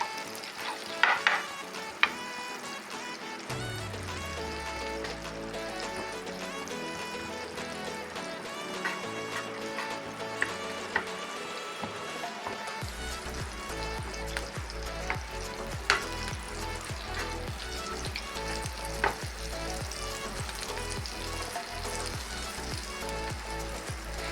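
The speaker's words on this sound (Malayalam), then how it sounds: "അതിലേക്ക് കുറച്ച് ബട്ടർ ഇടാം പാനിലേക്ക് നമ്മളത് ബ്രെഡ് ഒന്ന് ഫ്രൈ ആക്കണം" Bread slices fry in melted butter in a pan, giving a soft continuous sizzle beneath prominent background music with a sustained melodic line, with a few sharp clicks and no speech.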